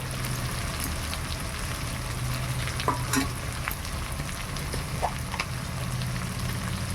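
Ginger fries in a pan for a Bengali mung dal with fish head, giving a dense, constant sizzle close up, broken by occasional spatula scrapes and light crackles.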